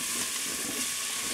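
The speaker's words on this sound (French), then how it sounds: "Je les fais dorer avant de les faire" Potatoes browning in a Cookeo multicooker give off a steady, even sizzle and hiss at moderate level, continuous throughout with no voices.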